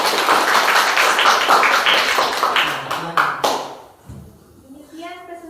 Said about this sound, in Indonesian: Oke, coba tepuk tangan.